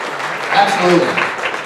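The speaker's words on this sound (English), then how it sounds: "Well, round of applause, even whether or not she's here." Applause from a crowd, a steady wash of clapping that carries on throughout, with voices mixed in underneath.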